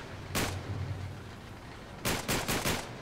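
Gunfire in the video game Uncharted 3: one sharp shot, then a quick burst of four rapid shots, loud and close over a steady background rumble.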